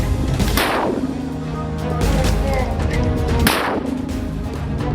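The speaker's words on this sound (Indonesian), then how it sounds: "Brigade Mujahidin menghantam kumpulan tentara Zionis Israel dengan menggunakan mortir kaliber 60 mm" Standard 60 mm mortar rounds fired in Gaza: two heavy booming blasts about three seconds apart, each with a broad rumbling tail, over continuous low background noise.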